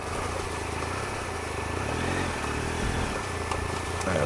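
A dirt bike engine putters steadily at low revs nearby on a slippery dirt track, a continuous mid-pitched drone with slight fluctuations.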